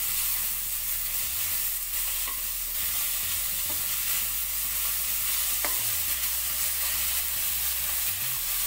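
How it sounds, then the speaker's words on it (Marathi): Grated raw mango roasts in ghee over low heat in a pan, giving a steady close sizzle and frying crackle, with occasional soft scrapes and clinks of stirring and no talk. "किसून घेतलेली कैरी आपण या तुपात टाकायचे, स्लो गॅसवर हे भाजायचे"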